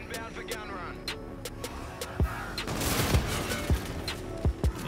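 Bursts of gunfire and heavy impacts from an aerial gun run in Call of Duty: Infinite Warfare, several sharp booming hits rising over a busy game mix with talk underneath.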